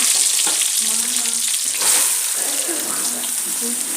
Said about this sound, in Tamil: அடுத்தது கருவேப்பிலை, தெரிஞ்சிச்சு.